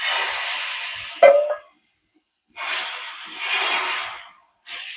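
Ragi (finger millet) dosa batter sizzles on a hot pan, a loud hissing burst that cuts off, then returns in two more strong sizzling waves with quiet gaps between.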